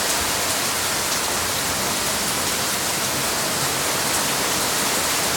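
A strong central Oklahoma thunderstorm brings heavy, flooding rain, heard as a loud, continuous hiss and roar of downpour without any talking.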